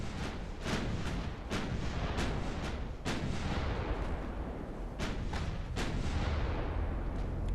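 Naval gunfire from the game Ultimate Admiral: Dreadnoughts, with Japanese cruisers firing HE rounds: repeated sharp cannon blasts at irregular intervals over a constant rumbling battle background, no voices.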